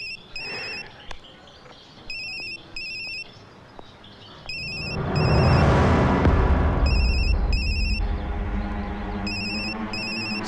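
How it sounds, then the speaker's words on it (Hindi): A phone ringtone chimes in repeated electronic bursts, continuing as a loud swelling musical score and rumbling sound effects rise underneath. "आपका फोन बज रहा है, उठाएंगे नहीं?"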